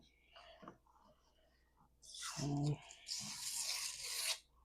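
Scrapbook paper being torn by hand for book annotation, a rough ripping burst about midway that carries into a longer scratchy tear, following quieter rustling and handling noises.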